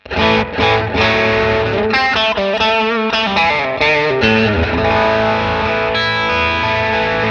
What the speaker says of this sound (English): Clean sound, then you have your broken up clean.